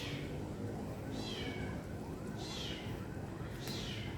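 A kitten meows three times from below a garden pot in an organic home garden, each cry a short, thin, rising-and-falling call over a steady background hiss.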